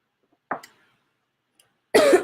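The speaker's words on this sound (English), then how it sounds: "This cough is crazy" A person coughs close to the microphone, one short cough, then a pause and a second, longer and harsher cough.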